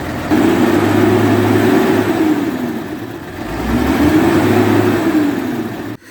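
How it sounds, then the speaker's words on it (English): A New Holland T5120 tractor engine runs steadily on a farm, a close mid-pitched drone that swells and dips in two broad cycles, alone without talk. "So this is the new Holland T5120"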